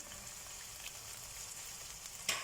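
Corn sautéing in a pan for a chicken bread filling gives a soft, continuous frying sizzle, fairly quiet and close, with a brief sharper crackle near the end and no voices.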